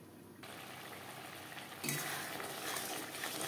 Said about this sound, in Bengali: লো ফ্লেমে 5-6 মিনিট মশলা বেশ ভালো করে কষিয়ে নেব।